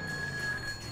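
A telephone rings in Grand Theft Auto 2, a brief steady electronic trill heard faintly over a low background hum.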